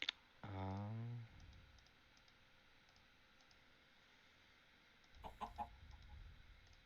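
A Minecraft chicken clucks once, close and clear, in a quiet game scene. Faint clicks follow, then a brief burst of game noise near the end, with no talk.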